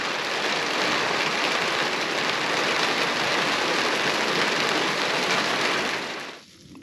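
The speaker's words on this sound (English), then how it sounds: "that rain lasted for over 3 hours" Heavy, steady rain pours down without a break on a campsite along the Colorado Trail, a dense hiss that fades out abruptly at the very end.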